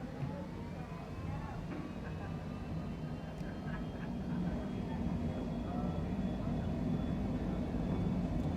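Airliner engines in Microsoft Flight Simulator spooling up to takeoff thrust, a steady broadband roar with a faint rising whine that grows slowly louder over several seconds, heard alone.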